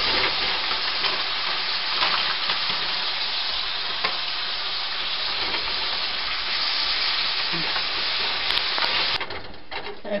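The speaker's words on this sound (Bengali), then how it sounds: "এখন আমি লতাটাকে চিংড়ি মাছের সাথে কষিয়ে নিচ্ছি।" Kochu lota (taro stolon) stir-fried with shrimp in a pan, a steady loud sizzle and hiss with stirring scrapes running throughout, ending in a quieter stretch with a few light clicks.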